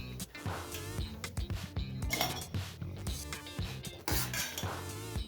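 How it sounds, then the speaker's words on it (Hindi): Soaked lentils for dahi vada tipped into a small mixer grinder jar, giving close, busy clinks and clatters against the jar over a steady musical background, with no speech. "इसमें डाल दीजिए दाल को।"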